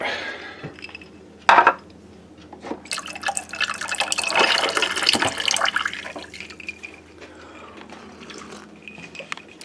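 Water is poured into a sweet drink to dilute it. A sharp clink comes first, then a few seconds of pouring and splashing that fades into light drips.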